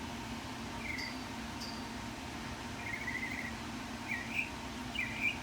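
A few short bird chirps sound from a distance over a steady hum, scattered and faint, growing a little busier toward the end.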